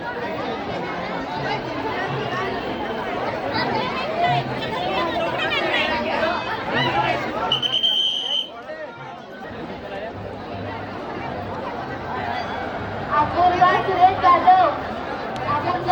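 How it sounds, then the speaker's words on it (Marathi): Dense chatter of a crowd of devotees inside the Balumama temple at Adamapur during the Bhandara festival, many overlapping voices close by, briefly dipping before swelling again. "बघा मंदिरामध्ये गर्दी बघा"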